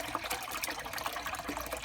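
Soapy water gushes and trickles as it is pumped out of a Bosch WAE24366 washing machine, a steady splashing, gurgling flow heard close up with no voices.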